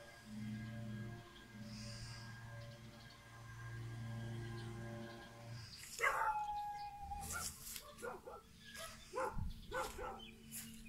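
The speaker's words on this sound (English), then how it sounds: "I see a doggy barking." A dog barks a few times in short, sharp bursts in the second half, following a steady low tonal hum, with a faint voice nearby.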